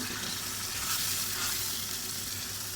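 Country chicken sautéing with spices, a loud, even sizzle with faint stirring movement, heard close and alone.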